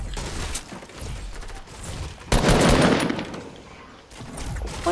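Rapid video game gunfire in a run of bursts, with a loud dense stretch of shots near the middle and lighter popping before and after, close and up front with no talk over it.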